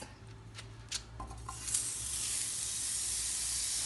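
Steady sizzling hiss of rice frying in butter in a pan builds and holds, with a few light clinks of a utensil early on.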